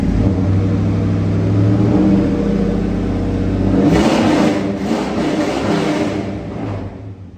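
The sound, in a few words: LT1 V8 engine revving in Mazda B4000 with loud exhaust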